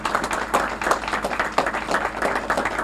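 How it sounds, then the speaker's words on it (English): A crowd applauds at an outdoor Memorial Day ceremony in Clarkstown, with dense, steady clapping from many hands that lasts throughout and has no talking over it. "give them a round of applause if we can"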